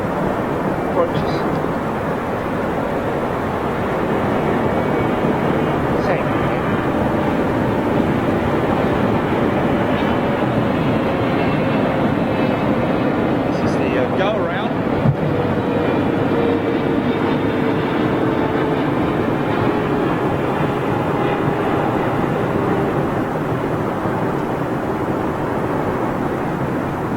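A jet airliner passing overhead on approach to London Heathrow Airport, a loud continuous roar that holds steady for the whole clip.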